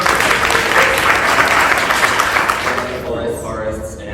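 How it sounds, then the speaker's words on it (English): Audience applause for panelists at a charity foundation event, a dense, loud round of clapping that holds steady, then thins and fades near the end, with some voices under it. "would you give a warm thanks, round of applause to Kuembu and Picticular, to our other panelists"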